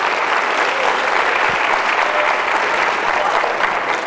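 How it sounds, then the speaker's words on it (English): An audience at a stage hypnosis show applauds hypnotized high school volunteers, a dense, even roar of clapping that holds steady for the whole stretch without a break. "How they give these folks a round of applause"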